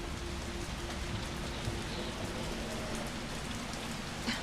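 Steady rain falling outside an open window in the Resident Evil 3 video game, a dense continuous patter with a faint low rumble underneath, heard alone without talk.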